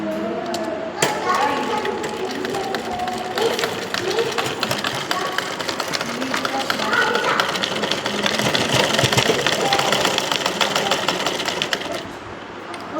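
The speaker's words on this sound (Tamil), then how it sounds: "இப்போ பின்பக்கம் தைச்சி முடிச்சிட்டேன்" A sewing machine stitching a puff sleeve, a fast, steady mechanical whirr and rapid clatter close by that runs for most of the stretch and eases off near the end, with talk over it.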